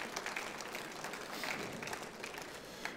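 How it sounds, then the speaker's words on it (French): Scattered applause from an audience, moderately distant, a steady patter of clapping hands for a few seconds. "Et je vous demanderai d'applaudir Mirto Marchesi qui nous a rejoint."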